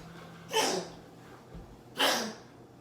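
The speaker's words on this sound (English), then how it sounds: "Sneeze." A dog with heart failure gives two sharp, close sneezes about a second and a half apart, each a brief bright burst of air, in a quiet indoor room.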